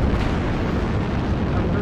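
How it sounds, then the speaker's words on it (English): Artillery strike explosions in a video game: a dense, continuous barrage of loud, rumbling booms that runs unbroken throughout and fills the low end. "Artillery strike activated."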